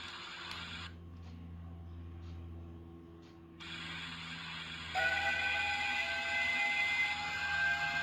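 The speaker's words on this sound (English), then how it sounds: "that sounds like someone shoveling coal." A Hornby toy steam train plays its coal-shoveling sound effect through a small built-in speaker, faint tinny scraping and ratcheting bursts broken by brief pauses, with whistle-like tones rising toward the end.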